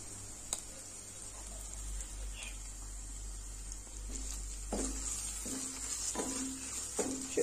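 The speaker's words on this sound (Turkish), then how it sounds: "Şöyle kıymam kavruldu arkadaşlar." Minced meat sizzles in a frying pan, a steady quiet hiss broken by several scraping stirs toward the end, heard close with no talking.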